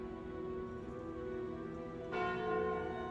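A bell tone rings out in Slay the Spire when the Calling Bell relic is taken, starting about two seconds in as a bright sustained chime over steady game music.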